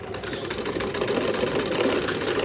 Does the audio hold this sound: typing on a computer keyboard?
no